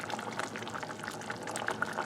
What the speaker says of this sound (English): We'll let that boil down.